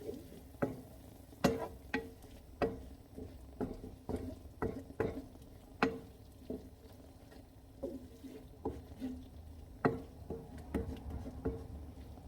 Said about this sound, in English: I'm just going to mix it